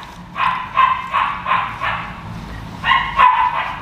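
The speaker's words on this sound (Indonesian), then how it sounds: "Sampai sekarang enggak pernah melolong tapi ngonggong terus." A dog barks in a quick series of sharp, loud, close yaps, then pauses briefly before two or three more barks follow, with no voices over them.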